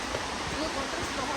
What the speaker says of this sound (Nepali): खोलाको आवाज सुन्दैछौँ हामीले